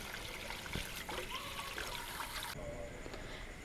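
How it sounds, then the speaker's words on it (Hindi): Water poured from a glass into a cooking pot for basmati rice chicken pulao, a steady soft trickling splash lasting a few seconds, fairly faint and close, then stopping abruptly. "अब हम इसके मुताबिक पानी डालेंगे।"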